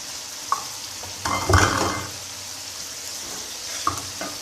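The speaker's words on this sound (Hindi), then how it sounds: "तो इनको जो अच्छी तरह मिक्स करेंगे और इनको 2 मिनट जो भूनेंगे" Salt, coriander powder, garam masala and biryani masala being stirred and fried in a pan for chicken pulao, steady sizzling with spoon scrapes and a louder stirring burst in the middle.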